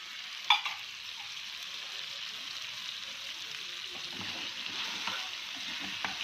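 Cream is stirred into chicken white karahi in a pan over a low flame, giving a soft steady sizzle with faint scraping of the spoon, quiet and alone.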